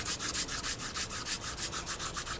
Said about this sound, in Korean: 사실 400으로 이렇게 각질이 갈려져 나오는 건 되게 어렵거든요